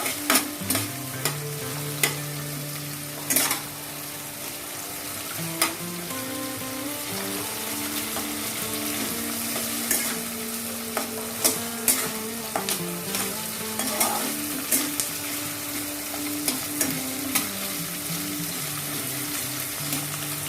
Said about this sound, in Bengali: ক্যাপসিকাম আর পেঁয়াজগুলো ফ্রাই করার জন্য। ভালো করে আমি মিশিয়ে নেবো এটা।